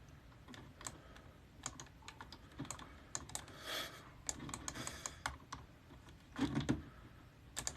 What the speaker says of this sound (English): Stop clicking. I'm using a mouse.